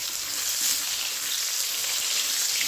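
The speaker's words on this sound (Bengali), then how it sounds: "আর মশলাটাও সাথে সাথে ভাজা হয়ে যাবে।" Boiled potatoes frying with a spice mix in hot oil, a loud steady sizzle holding close and even throughout with no pauses.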